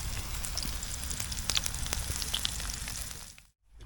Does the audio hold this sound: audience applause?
no